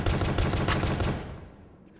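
A loud, rapid burst of gunfire in a survival horror game set in a haunted horse meat factory, shooting at an enemy. The shots fire in quick succession, then fade into a short decaying tail, with no talk.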